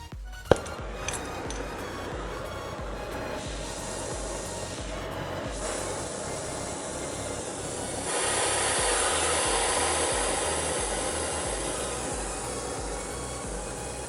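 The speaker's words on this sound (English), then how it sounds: "So we got our oxygen acetylene torches right here. We're gonna turn the fuel on" Oxygen-acetylene torch burning with the fuel on while brazing copper on an outdoor AC compressor unit, a steady broadband hiss and roar with a sharp click at the start, continuous and fairly loud.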